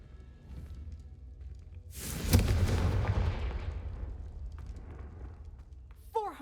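A Confringo explosive spell cast in Hogwarts Legacy erupts as a loud, close blast that booms and rumbles before slowly fading, with quieter game ambience around it and a brief whoosh near the end.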